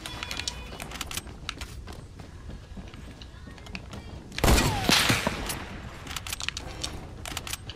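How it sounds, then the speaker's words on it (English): Hunting rifle shots in a Wild West mode of an online shooter game, a loud crack standing out amid busy game noise, footsteps and scattered rapid firing, with players' voices faintly under it. "Oh, I hit him for 90 with the hunting rifle, dude."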